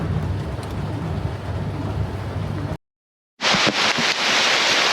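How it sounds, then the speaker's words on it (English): Heavy rain pours down in a dense, steady roar on an overland trail in West Virginia, cuts out briefly, then resumes as a loud hiss. "It's coming down hard now. The rain is crazy at the moment."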